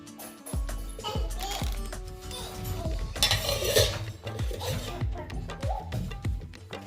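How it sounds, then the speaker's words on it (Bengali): Yogurt being stirred into a marinade with a spoon in a bowl: repeated soft thuds and scraping clinks in an uneven rhythm, close and moderately loud. "ম্যারিনেশনের জন্য এর মধ্যে 2 চামচ দই মেশাচ্ছি।"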